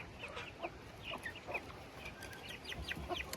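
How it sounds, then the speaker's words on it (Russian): Silkie chickens cluck softly in short, scattered bursts at moderate distance, a silkie rooster and hens murmuring over faint outdoor background noise. "Этот петух шелковый все время контролирует их, все время он к ним пристает."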